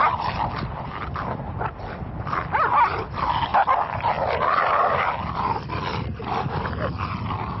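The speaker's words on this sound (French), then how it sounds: "On les croise encore accompagnés de chiens, hauts sur pattes, le dos musclé" Several long-legged, muscular dogs kept by Bedouin nomads in Mauritania bark and yip in a busy, overlapping chorus with growls mixed in, fairly close and loud throughout.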